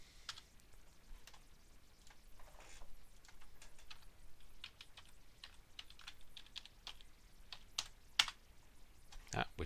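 Fingers tap out a member ID on a point-of-sale keyboard, soft irregular clicks scattered over several seconds, quiet and close.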